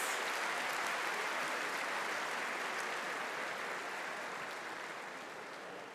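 Sustained dense applause from an award-show audience at Zlatna Bubamara 2024, broad and steady throughout, easing slightly toward the end, with no voices on top.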